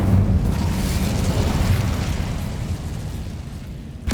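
The Incendio fire spell in Hogwarts Legacy erupts as a loud, sustained fiery burst that roars and slowly fades, ending with a brief sharp crackle.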